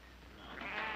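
A sheep bleats once, faint and somewhat distant, rising toward the end over low background noise.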